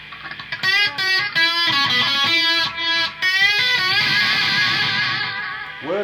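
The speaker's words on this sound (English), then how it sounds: "Echo machine." A Behringer PB1000 echo machine effect repeats a series of short, choppy guitar notes, each struck note trailing off in decaying repeats that blur into a sustained tail.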